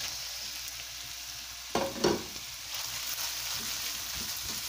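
Green pepper and sliced carrots sizzle in a frying pan while being stirred for lumpia, a steady soft hiss with a couple of louder scraping stirs in the middle, no voices.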